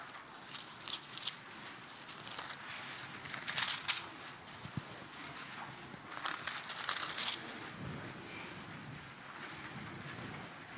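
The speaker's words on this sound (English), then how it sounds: "You turning the pages of your Bible." Bible pages turned by a church congregation, a soft rustling and crinkling spread through the room with denser bursts of page flipping, with no talking.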